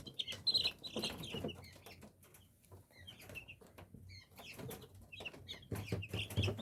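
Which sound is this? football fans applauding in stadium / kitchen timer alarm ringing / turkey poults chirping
turkey poults chirping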